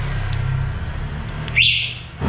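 An electric golf car, an NWOW EMC, gives a single short rising electronic chirp as its lock is pressed, standing out clearly and close over a steady background hum before fading.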